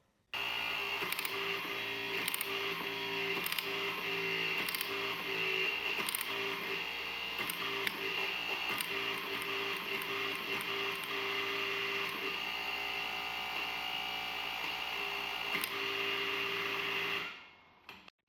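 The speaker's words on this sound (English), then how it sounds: "you can install the tool onto the application" A hydraulic torque wrench runs continuously while torquing, giving a steady mechanical whir with rapid ratcheting clicks that cuts off abruptly near the end, with no voices.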